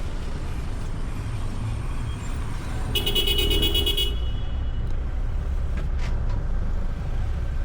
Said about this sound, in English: So, Ralph, there seems to be a lot of gesticulation going on and honking.